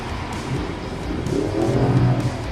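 A 4x4 climbs a sand hill in low range, first gear, on outback terrain. Its engine growls steadily, then rises into a strained, louder rev as the wheels dig in.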